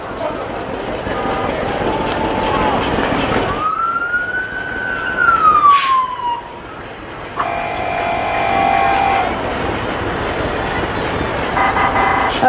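A Fayette Fire Department fire truck siren wails in a rising and falling sweep at a Memorial Day parade in Waterloo, New York, followed by blasts of a horn, over crowd noise and a loudspeaker voice.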